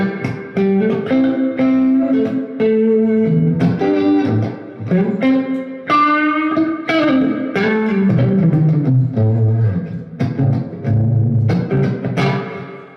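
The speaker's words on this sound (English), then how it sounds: "Onto plate, which is more of a lighter shimmering reverb, a lot more decay." A guitar amplifier with its plate reverb switched on rings out as loud, sustained guitar notes and chords trailing into a light, shimmering wash with long decay, heard alone with no talk.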